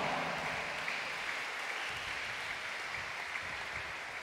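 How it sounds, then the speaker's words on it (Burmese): Steady, dense applause fills a church as a preacher is welcomed at a World Mission Sunday Mass, the clapping sustained at an even level throughout with no voices rising above it. "လက်ခုပ်တီးချင်းချင်းကြိုဆိုကြရအောင်"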